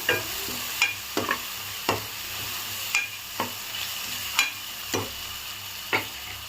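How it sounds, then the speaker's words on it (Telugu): Chili powder and turmeric being stirred into egg dum biryani masala in a pan, with regular spoon strokes scraping and tapping the pan about once a second over a low sizzle, close and without speech. "బాగా ఒకసారి మిక్స్ చేద్దాము."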